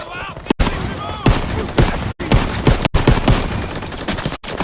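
Dense bursts of gunfire from the World War II shooter game Call of Duty WWII, sharp loud shots and rapid volleys repeating throughout with brief gaps, close and continuous.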